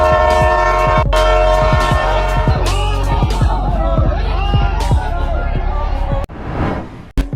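A train rolls past with a loud, sustained horn blast, followed by rumbling and clattering of moving railcars and bursts of wheel noise, all close and loud.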